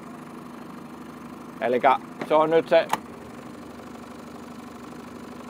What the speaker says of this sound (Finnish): vaihde päällä tyhjäkäynti